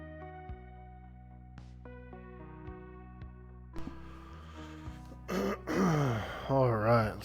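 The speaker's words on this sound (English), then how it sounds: "All right, let's clear my throat." A man playing Everquest clears his throat near the end in a few rough, gravelly bursts, loud and close, after a stretch of soft sustained game music tones.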